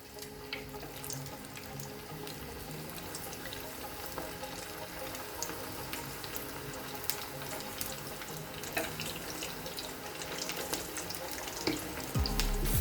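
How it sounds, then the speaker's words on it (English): Close hissing and crackling of food frying, a dense, sputtering sizzle that grows slightly louder toward the end, with no talking. "check the hotness of the oil, and you can see it's bubbling up"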